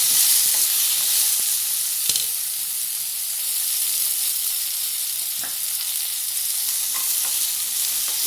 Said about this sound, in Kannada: ಹಾಗೆ ಕಟ್ ಮಾಡಿ ಇಟ್ಕೊಂಡಿರುವಂಥ ಈ ಟೊಮೆಟೊ ಹಾಕ್ತಾ ಇದ್ದೀನಿ ಇವಾಗ.